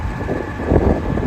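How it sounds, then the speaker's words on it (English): Strong wind buffets the microphone in a potato field during planting with a tractor, a continuous low rumbling roar for just over a second. "Granted, it's probably really windy, so sorry about the wind."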